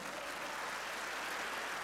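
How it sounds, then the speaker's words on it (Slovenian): Dense, steady applause from a crowd, a continuous wash of clapping hands at moderate distance. "Dajte, aplavz potem!"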